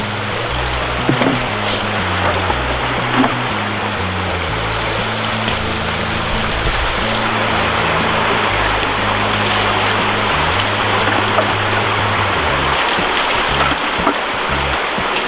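Water pouring and rushing over a black sluice mat to rinse off gold during outdoor sluicing, a continuous splashing flow with a steady low hum running underneath.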